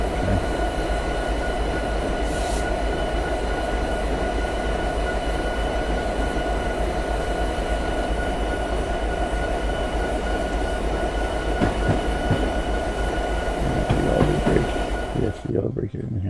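A diesel train runs in the Train Simulator 2017 video game as a loud, steady engine drone with rolling rail rumble and occasional wheel clicks, ending abruptly.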